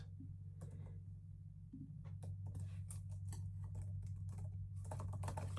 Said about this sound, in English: I'm typing it out as I go